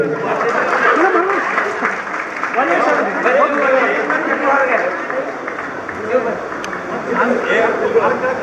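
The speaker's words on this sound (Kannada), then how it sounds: "ಅವ್ರಿಗೋಸ್ಕರ ಜೋರಾಗಿ ಚಪ್ಪಾಳೆಗಳಲ್ಲಿ" A crowd claps for the inauguration of a wedding hall, a dense, continuous round of applause heard close and loud, with voices mixed in.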